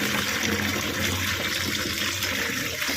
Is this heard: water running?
yes